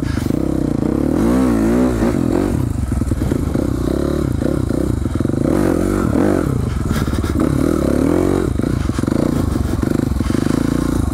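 A dirt bike engine revs and bogs up and down close by while riding rough terrain, with rising and falling pitch sweeps, clattering and scraping over a constant loud mechanical drone.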